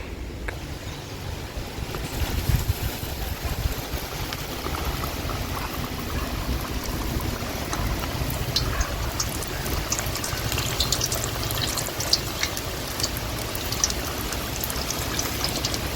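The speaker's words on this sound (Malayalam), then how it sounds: "നമുക്ക് ഓരോന്നിട്ടിട്ട് പൊരിച്ചെടുക്കാം" Chicken samosas deep-frying in a pan of hot oil, heard as a steady, dense bubbling and crackle that runs the whole time with no pauses and no talking.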